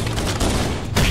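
Rapid, loud gunfire bursts in a Halo match, close and continuous with a fresh volley kicking in near the end, no talk over it.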